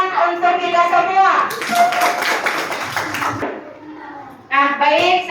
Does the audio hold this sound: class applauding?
yes